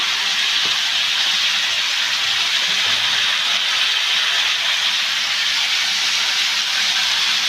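Ridge gourd and potato fry in a pan with cumin powder, ginger paste and salt, giving a loud, steady, unbroken sizzle that holds level throughout.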